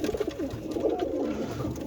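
Roller pigeons coo in a soft, continuous, close-up warble, recorded in the dark at feeding time.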